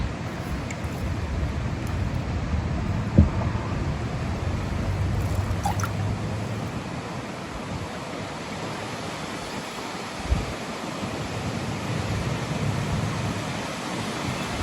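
Muddy water swirls in a prospecting pan outdoors, a soft, continuous sloshing wash with occasional small drips and two faint knocks, close and steady throughout.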